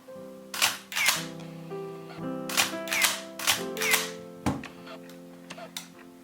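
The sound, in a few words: Minolta X-700 film camera shutter release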